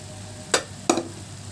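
Boiled black-eyed peas are stirred into a Kerala-style banana flower stir-fry in a pan, giving two sharp scraping clatters over a faint background sizzle.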